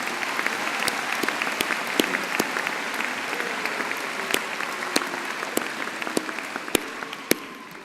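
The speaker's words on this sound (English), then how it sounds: "so let's give her another special round of applause." A university graduation ceremony audience in Birmingham giving a sustained round of applause, a dense even wash of many clapping hands with sharper individual claps standing out, steady and moderately loud throughout.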